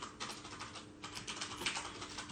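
Faint, rapid clicking of keys on a computer keyboard, irregular bursts of typing heard at low level against a quiet background.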